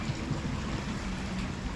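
River water flows steadily outdoors at Thompson Park in Canada, a soft continuous wash of moving water with faint trickles. It sounds close and even, with no talking.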